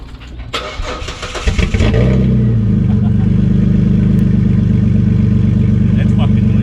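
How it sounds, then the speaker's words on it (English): A Ford Territory fitted with a new aftermarket exhaust cranks briefly, fires up and settles into a loud, deep, steady idle rumble close by. Someone talks during the cranking. "we need to start the car and see what it sounds like"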